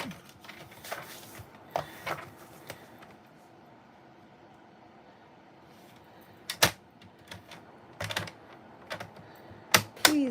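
Paper for a stamped Christmas card is trimmed to size, giving scattered sharp clicks and brief sliding snaps, quiet and close, with pauses between the cuts.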